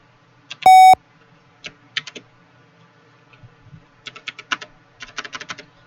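Typing on a computer keyboard: a sharp beep first, then scattered key taps and quick bursts of clicking, close and clear with no talk.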